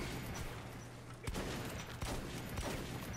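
Gunfire in the video game Metro 2033 Redux, a dense, steady barrage of shots with a few sharper cracks standing out, close and continuous with no talk.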